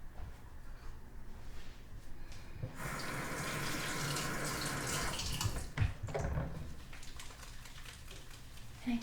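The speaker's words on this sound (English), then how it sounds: "Now I'm just washing it again because I will be using chopsticks" Running tap water splashes steadily over hands at a sink, a close, continuous hiss with irregular droplet spatters, starting a few seconds in and fading slightly toward the end.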